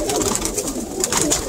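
Pigeons coo steadily in a loft of racing birds, a soft continuous murmur of several doves close by with no talk over it.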